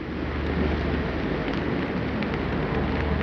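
Freezing rain falls steadily at about 31 degrees Fahrenheit, a dense, even hiss of drops with a low rumbling undertone and no pauses or voices.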